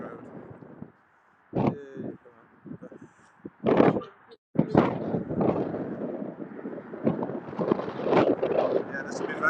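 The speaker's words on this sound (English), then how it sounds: "if you can hear me over the wind" Gusty wind buffets a microphone outdoors on a walk, with rough, uneven roaring bursts that come and go and grow steadier toward the end; a voice is partly heard beneath the noise.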